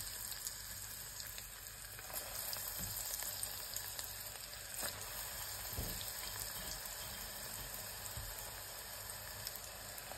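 Battered eggplant slices frying in hot oil, a steady close crackling sizzle that carries on for the whole stretch, with no one talking.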